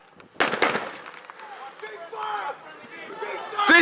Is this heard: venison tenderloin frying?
no